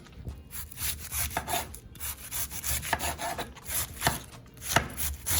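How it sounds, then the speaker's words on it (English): A sharp knife finely chops cabbage on a wooden board for coleslaw-style shreds, giving rapid, steady close-up cutting strokes with no speech. "So Like finely sliced. Finely chopped."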